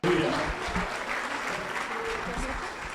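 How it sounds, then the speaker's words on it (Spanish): Church congregation applauding, a burst of clapping that starts abruptly and holds steady for a few seconds, with voices mixed in. "Ese aplauso es de gratitud a Dios"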